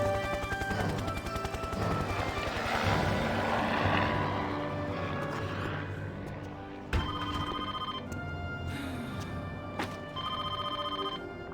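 A telephone rings repeatedly amid a dense, busy backdrop, with its steady ringing tones cut by several sharp clattering hits.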